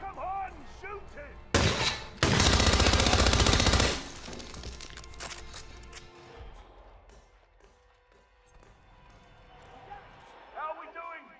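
Dense bursts of rapid gunfire erupt in the Hitman 2 video game, a loud sustained volley followed by scattered shots and rattles, with shouting voices over the action.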